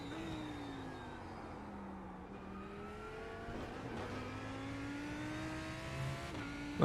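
Lamborghini Huracan GT3 EVO race engine revs continuously through gear changes at Oulton Park in iRacing, pitch dropping and climbing as it downshifts and accelerates, steady and close with no talk.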